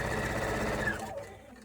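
A sewing machine stitches quilt pieces together in a steady, fast, whirring rhythm for about a second, then runs down and stops, leaving a faint hum.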